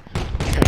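Rapid bursts of anti-aircraft gunfire in the military video game Project Reality, several close, heavy booming shots in quick succession within under a second.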